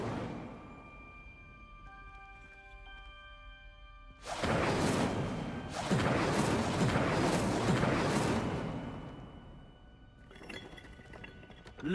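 An Incendio fire spell cast in the Hogwarts Legacy video game bursts into a loud, crackling, fiery whoosh after a quiet stretch of ambience, roaring for several seconds before fading, then flaring briefly again at the end.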